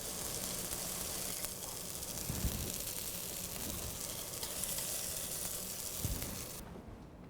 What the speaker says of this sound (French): Donc là on a mis les tomates à colorer légèrement d'à côté.